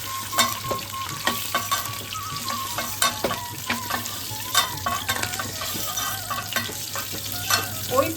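Whole cumin, dry red chili, bay leaf and whole garam masala crackle and sizzle in hot oil left from frying duck eggs, a steady close sizzle with frequent sharp pops and spoon stirring throughout, no talking.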